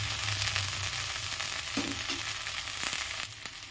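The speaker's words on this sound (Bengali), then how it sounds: "এবারে ঢ্যাঁড়সটা ভাজা হোক।" Okra frying in a pan, a loud, close, continuous sizzle with crackles and occasional stirring scrapes, no talking.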